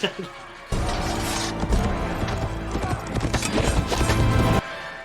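Horse hooves clip-clop in a scene from the fantasy TV series The Rings of Power, episode "Udûn", a steady run of hoofbeats blended with dense background sound and music for about four seconds.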